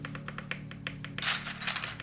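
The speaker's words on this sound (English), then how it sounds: "Sat75, not the most fun sounding keyboard in the world, but hopefully we got it to sound at least halfway decent." Rapid clacking keystrokes on a Satisfaction75 mechanical keyboard, a quick irregular run of close, crisp taps that thickens into a denser flurry near the end.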